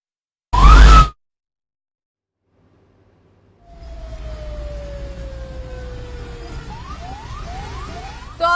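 An ambulance siren sounds behind a car, a wailing tone that rises and falls over road noise in the second half, after a brief loud thump and a quiet gap.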